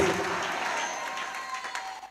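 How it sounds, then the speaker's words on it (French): Church congregation at an anniversary service clapping and cheering with joy, a dense, sustained wall of applause with scattered shouts and voices rising through it. "je vais entendre des acclamations et des cris de joie. Poussez des cris de joie."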